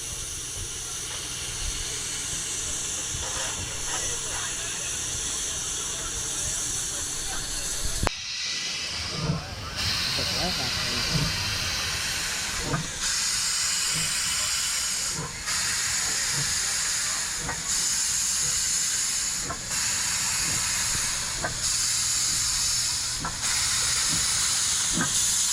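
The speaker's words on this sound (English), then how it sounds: "The locomotive is now ready into position to shunt back and head for the journey back to Brisbane." Steam locomotive hissing steadily while shunting back from the platform at Grandchester, a broad continuous hiss with rail and mechanical clatter underneath, fairly loud and close throughout.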